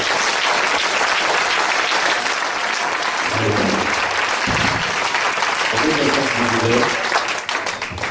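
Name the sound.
audience applause and cheering in church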